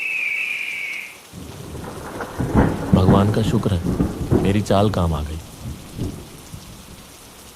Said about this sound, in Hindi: बारिश अब भी तेज हो रही थी